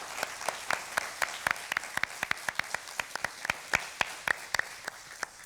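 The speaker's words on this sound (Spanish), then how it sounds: "Aunque un aplauso a Laura." Studio audience applauding for a fifteenth birthday on a Mexican television show, steady clapping with sharp individual claps standing out, moderately close and without talk.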